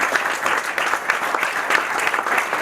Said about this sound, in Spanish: ¿Pudieron escuchar los aplausos del juego o no?